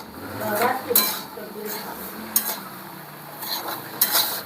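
A metal spoon stirs semolina roasting in a pan, scraping and clinking against the metal in bursts with sharp taps and a soft sizzle underneath.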